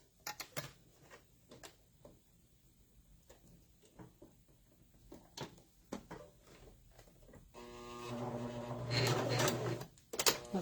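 A sewing machine sews a Christmas tree pattern, starting with soft scattered clicks and handling sounds, then running briefly in a fast, close mechanical whir near the end.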